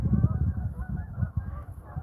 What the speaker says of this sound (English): There they go right there. Flock of geese.